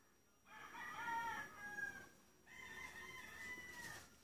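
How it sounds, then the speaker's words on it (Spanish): Two roosters crow one after another in Michoacán, Mexico, clear but somewhat distant, each call long and drawn out. "Hear the gallos quiquiriqueando."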